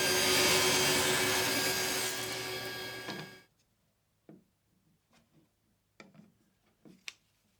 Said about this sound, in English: Now here I'm cutting the core for the lead screw, and I'm making that from hard maple.